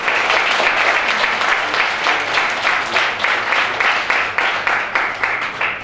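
Sustained audience applause at the closing ceremony of an international academic conference in Bangladesh, a steady dense wash of many hands clapping with a rhythmic pulse, loud and continuous throughout.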